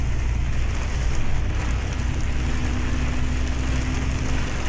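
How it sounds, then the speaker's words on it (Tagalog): Heavy rain pours steadily at Shek O beach, a dense, loud, unbroken hiss of falling water with no voices heard. "Ang lakas ng ulan."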